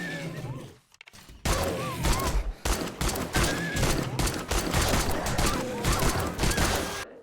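Gunfire in 7 Days to Die, a rapid, sustained burst of loud shots firing repeatedly after a brief pause, with a horse-like whinny and game sounds mixed in.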